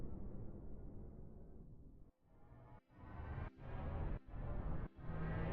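A synth riser with a shifter LFO effect switched on, sweeping as a dense sustained tone chopped by sharp rhythmic dropouts at regular intervals, loud and alone without any talk.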